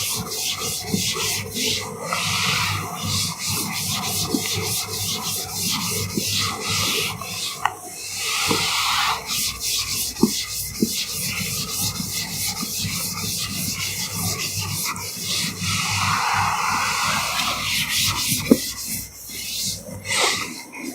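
A board being erased by repeated rubbing, a steady scratchy back-and-forth swishing that continues close and fairly loud with a few brief knocks, no talking.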